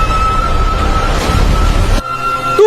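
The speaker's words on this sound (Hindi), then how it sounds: "पंखों की टक्कर से समुद्र की लहरें उठने लगी।" Ocean waves surge in a dense, continuous wash that cuts off sharply near the end, loud and close, with no talking.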